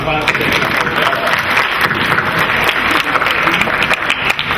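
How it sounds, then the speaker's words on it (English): Conference audience at a healthcare innovation event applauds presenters coming up, loud dense clapping close by that continues without pause. "So why don't we give them applause for coming up?"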